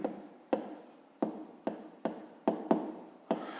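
Pen strokes scratch across paper while maths working is written out by hand, in a run of about eight short bursts, each with a sharp onset and a brief fading scratch, close and quiet.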